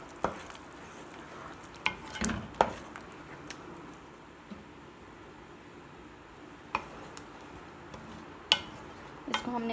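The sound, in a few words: chicken handi with yogurt being stirred and fried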